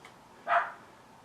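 A single short dog bark sounds once, moderately close, against a quiet room background.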